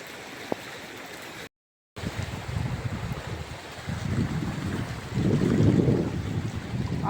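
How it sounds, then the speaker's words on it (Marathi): Heavy rain pours down steadily over a farm field in a days-long downpour with flooding all around, a dense, constant hiss that swells louder toward the end with no voices. "खूपच पाऊस चालू आहे."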